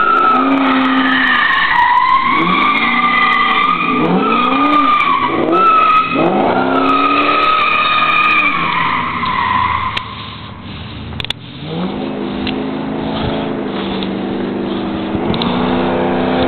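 A box Chevy spinning a donut, its tires screeching in a loud, sustained squeal that wavers and rises with the revving engine, then settling into a lower rumbling skid.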